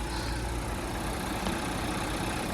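A Cupra Formentor engine idles steadily close by, a constant even rumble with no change in pitch.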